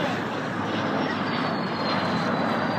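An aircraft carrying the space shuttle Endeavour flies past with an F-15 fighter jet as escort, making a loud, steady, broad engine roar overhead that holds for the whole moment without any talk.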